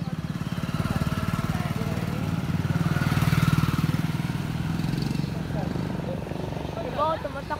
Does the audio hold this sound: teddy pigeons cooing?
no